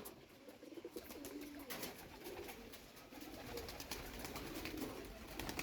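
Pigeons coo softly and repeatedly at close range, overlapping murmurs with faint wing and foot rustles in the background.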